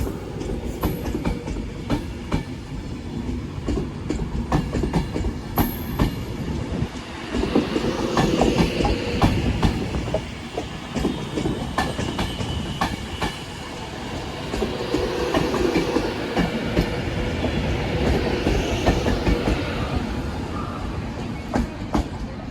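An Avanti West Coast Class 390 electric train departs on a service to London Euston, its rolling roar and clickety-clack wheel beats building loudly and steadily close by, with no talk over it.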